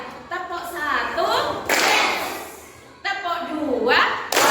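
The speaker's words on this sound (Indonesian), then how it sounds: "kita tepuk semangat dulu ya" A group's rhythmic encouragement clap: chanted voices alternate with dense bursts of many hands clapping together, loud and close.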